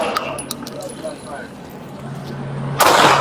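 Gunshots crack out during a police shooting on a city street, with a few sharp bursts early and a loud blast near the end, amid shouting officers and radio chatter.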